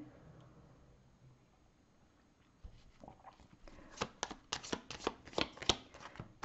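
A deck of oracle cards being shuffled by hand, beginning quiet and building into a run of crisp, rapid riffling slaps close up, with no talking.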